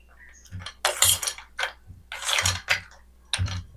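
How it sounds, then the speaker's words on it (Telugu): A spoon stirs mango sharbat with vermicelli, ice and chia seeds in a bowl, making repeated close clinks and scrapes against the sides in an uneven rhythm. "ఇలా బాగా మిక్స్ చేసుకోవాలి అన్నీ వేసి."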